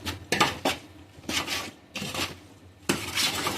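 Tomatoes stirred in a pan for mixed biryani, a spoon scraping and clinking against the metal in several separate bursts with short pauses between, close and fairly loud.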